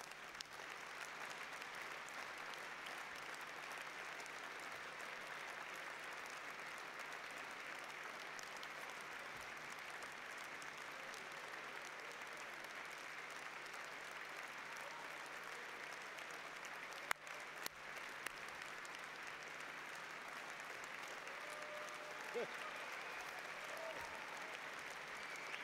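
Steady, sustained audience applause at a Die Linke party rally, a dense wash of clapping that continues evenly throughout with no speech over it.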